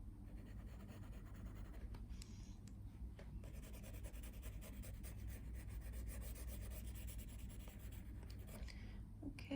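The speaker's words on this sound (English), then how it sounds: "the way you're holding your pencil makes a big difference in the type of shading you will achieve" Pencil strokes rubbing and scratching across paper while tonal shading is applied, a steady close-up dry rasp running continuously without speech.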